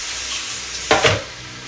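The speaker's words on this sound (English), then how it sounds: "Can you hear that sizzle?" Mincemeat frying in a pan makes a loud, close, steady hiss that flares into a sharper crackling burst of sizzle partway through, then settles back; no voices.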